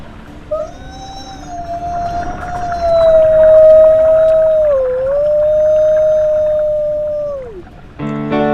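A wolf howls in the WolfQuest video game: one long, clear, loud sliding howl that rises, holds, dips and then falls away, followed by a brief buzzy sound at the end.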